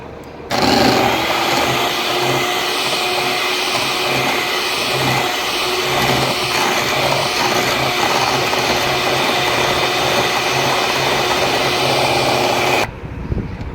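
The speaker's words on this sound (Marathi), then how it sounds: "आता आपल्याला बीटरने बीट करून घ्यायची ही क्रीम" An electric hand beater whips chilled cream for a mango sandwich, running as a loud, steady high-pitched motor whine with no break for about twelve seconds before it switches off abruptly.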